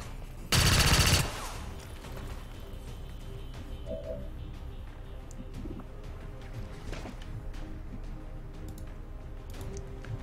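One loud, sharp gunshot from a soldier in the video game XCOM 2: War of the Chosen cracks out near the start, followed by a long, quiet stretch of soft ambient game sounds and faint cooing.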